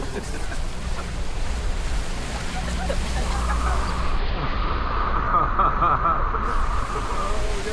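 Rushing river rapids on the Kali River Rapids raft ride at Disney's Animal Kingdom make a loud, steady roar of churning water, heard close up with voices at times.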